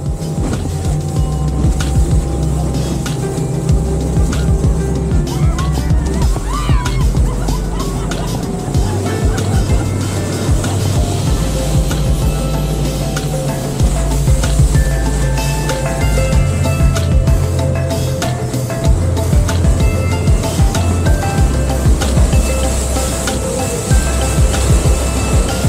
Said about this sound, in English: We now end our journey in a speedboat trip to Trou, Douce.